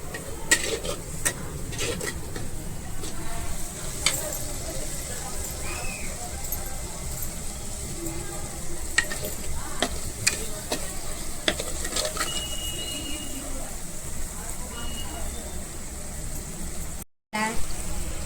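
Masala for matka chicken being stirred and mixed in a pan, with steady sizzling and repeated scraping clicks of a spoon throughout, while someone talks over it.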